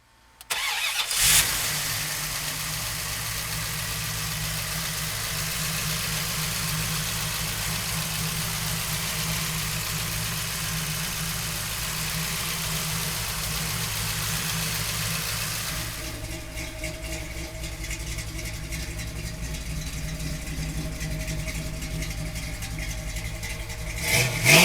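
A 1967 Chevrolet Camaro with a 396 engine fires up with a sharp crank and catch, then settles into a loud, steady, rumbling idle close by that runs without a break, easing slightly near the end.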